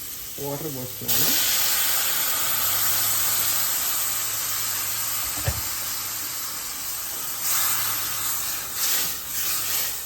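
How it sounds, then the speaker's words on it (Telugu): Water splashes into a hot pan of roasted rava and apple for apple kesari, erupting into a loud, sustained steam hiss with bubbling sputters, after a brief moment of speech at the start. "వాటర్ పోస్తున్నాను."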